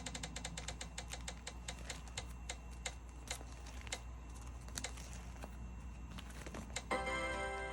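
A prize wheel spins with rapid, even ticks that gradually space out as it slows, close and fairly quiet over a low steady hum, ending in a brighter buzzing tone.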